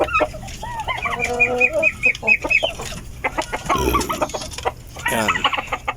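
Native cross Basilan chickens cluck close by in a flock, with repeated short clucks and warbling calls, a rooster-like crow, and scattered rustling and bumps.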